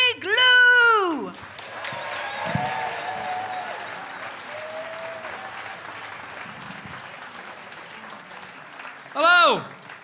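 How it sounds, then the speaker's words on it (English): A comedy club audience applauds and cheers a comedian's entrance, loud at first, then settling into a sustained clapping wash. A voice speaks briefly at the start and again near the end. "Ladies and gentlemen, please, big clapping and cheering."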